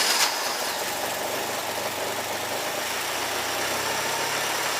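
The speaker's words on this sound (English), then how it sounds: "please start engine to see" A car engine with a rattle fault starts up and settles into a steady idle, its low mechanical hum and vibration continuing evenly at close range without any talk.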